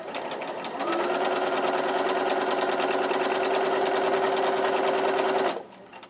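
A sewing machine back stitches a small fabric strip for a layer cake quilt, running in one steady, close buzzing burst of about five seconds before stopping abruptly.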